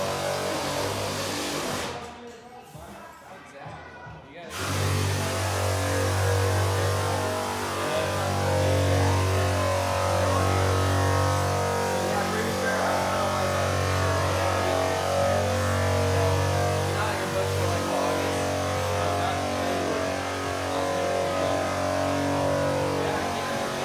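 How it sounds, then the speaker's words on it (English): Car repair shop with mechanics working on vehicles, a steady mechanical hum and engine drone running throughout, preceded by a brief burst of close handling noise near the start. "It's kind of hard to hear because they're working on cars in there"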